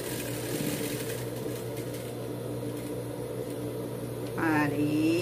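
A sewing machine runs in a steady, continuous hum while stitching around the collar of a fabric dog bandana, with a brief higher-pitched whir near the end.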